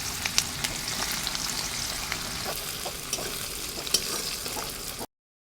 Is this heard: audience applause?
no